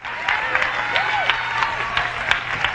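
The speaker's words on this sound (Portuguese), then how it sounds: "Aplauda e louve a Deus." Church congregation applauding during a sermon, steady rhythmic clapping with crowd murmur and occasional voices over it, fairly loud and close.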